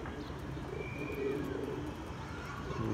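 Sultan breeder pigeons with their babies cooing softly in a loft, low gentle coos over a steady background hum, fairly faint and continuous.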